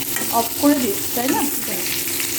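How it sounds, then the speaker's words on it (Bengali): Sliced pointed gourd (potol) fries in a pan until browned, a soft steady sizzle running beneath a nearby voice speaking briefly. "পটল ভাজাটা হয়ে গেছে, লাল লাল হয়ে গেছে।"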